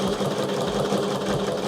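A sewing machine runs steadily while quilting an Xs quilting design, a close, continuous motor whir with a fast needle rhythm and no pauses or voices.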